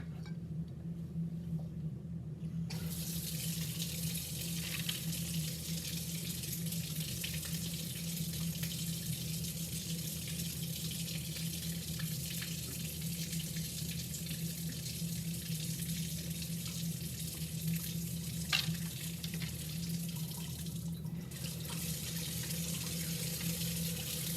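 Slurry pours and trickles steadily through a filter for a long stretch, a continuous watery splashing close by with no voices.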